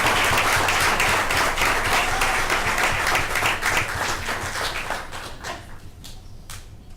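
An audience at a board of education meeting applauds students, a dense burst of many hands clapping that thins out and fades over several seconds.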